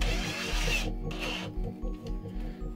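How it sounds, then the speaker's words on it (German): A small one-millimetre drill bit boring a hole beside a turnout on a Z-gauge model railway layout; a quiet, steady mechanical whir with brief interruptions, close by and without any talk. "Dann ran mit dem Millimeterbohrer."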